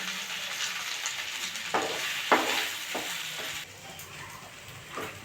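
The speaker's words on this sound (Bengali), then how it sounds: "এটা নেড়ে চেড়ে ভালো করে ভেজে নেব।" Semolina frying in ghee while being stirred in a pan for semolina halwa, a steady close sizzle with a few sharp scraping strokes, fading slightly near the end.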